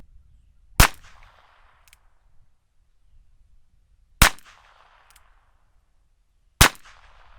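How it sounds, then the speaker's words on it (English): Ruger Wrangler revolver fired at cans outdoors, three sharp single shots spaced a few seconds apart, each with a brief ringing decay and near silence between them. "We're going to do a little bit of gallery shooting before we get into the accuracy test."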